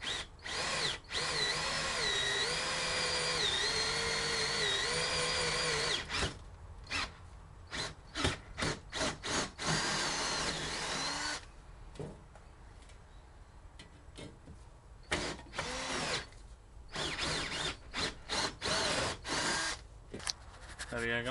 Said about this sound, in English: all we have to do is just drill there, there, there and there